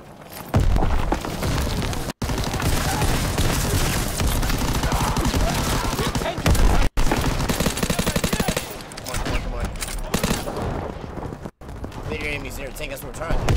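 Continuous battle noise from Call of Duty WW2: rapid, loud gunfire and heavy explosive booms pound almost without letup, with a tank on the move and voices speaking over the chaos.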